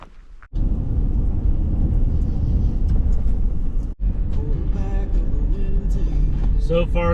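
Car driving on a paved road through Olympic National Forest, a steady low interior rumble of engine and tires with a brief dropout, and people talking over it toward the end.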